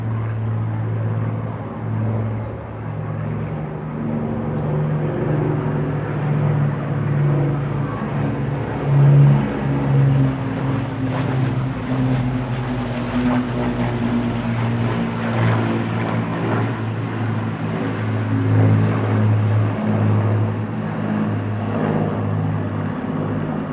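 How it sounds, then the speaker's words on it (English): A Lancaster bomber from the Battle of Britain flight drones past at the Eastbourne airshow, its piston engines making a loud, steady, layered rumble that swells slightly and holds for the whole stretch. "we're looking out now for the bombers to rejoin us"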